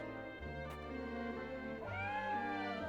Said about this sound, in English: Hello, kitty kitty.